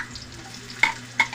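Onion frying in a pan for lumpiang togue hisses softly nearby, with two sharp clinks of a utensil against the pan breaking the low sizzle, and no one speaking.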